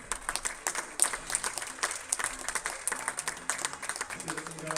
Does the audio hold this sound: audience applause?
yes